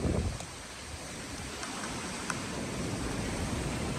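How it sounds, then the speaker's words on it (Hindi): Steady broadband hiss of heavy rain pouring down during a storm, constant and fairly loud throughout with a few faint taps near the start. "बारिश तेज हो गई भाई"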